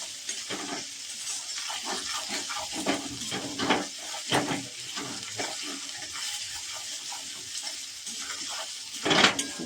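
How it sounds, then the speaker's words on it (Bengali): Ginger frying slowly in a pan over a low flame, a soft continuous sizzle with occasional stirring scrapes and crackles, steady and close, with no voices. "গ্যাসটা লো ফ্লেমে করবেন, কারণ আদাটা যাতে না পুড়ে যায়। আস্তে আস্তে এটা ভেজে নেবেন।"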